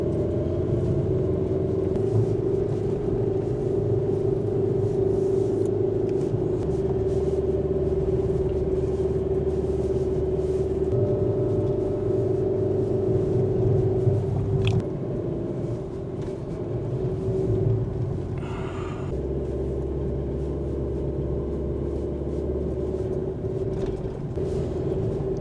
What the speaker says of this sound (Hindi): गाड़ी काफ़ी आपको पता है हाई टॉप पे चढ़ने में स्ट्रगल करती है